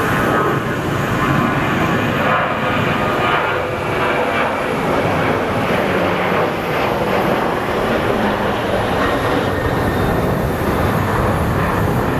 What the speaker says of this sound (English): we do have our other plane full speed on the runway, so let's go catch this bad boy taking off